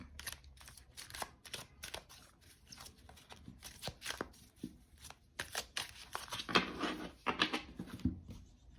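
Oracle cards are shuffled in quick riffling bursts, crisp papery flutters repeating close up with short pauses between, and no talking.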